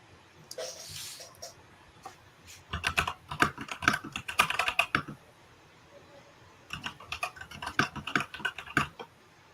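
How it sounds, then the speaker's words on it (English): Loud, clattering computer keyboard typing in close, fast bursts, with a pause in the middle before another flurry of clicks, in a room where a mixed media painting session is under way. "that's the loudest keyboard of all time"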